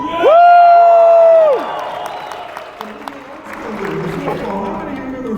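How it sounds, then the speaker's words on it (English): A live audience claps and cheers after a loud, sustained whoop or whistle, with the crowd noise continuing at moderate loudness. "I want you to clap because it's authentic."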